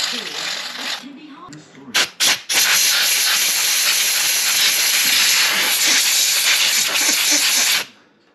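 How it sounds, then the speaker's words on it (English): Electrical contact cleaner sprays from an aerosol can into an oily electrical plug on a 1.8T Audi TT mk1 8N, a loud continuous hiss after a couple of short bursts, cutting off near the end. "I'm just going to spray some electrical contact cleaner"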